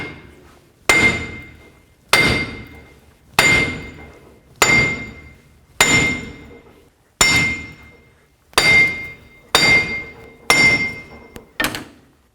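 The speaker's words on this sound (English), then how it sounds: "when I hammer the wheel bearing," A wheel bearing being hammered on the front steering knuckle of a 2007-14 Chevy Silverado, ten sharp metallic blows with a ringing clang, spaced about a second apart, close and loud.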